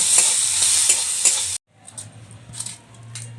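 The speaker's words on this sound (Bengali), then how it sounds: "এবার দিয়ে দেবো কুচানো ডিম, দিয়ে এবার কিছুক্ষণ নেড়ে চেড়ে নামিয়ে নেব" Chopped egg stirred and sizzling in a frying pan for an egg burger, a bright hiss with scraping stirs that cuts off abruptly midway, then resumes as quieter sizzling with light spatula scrapes.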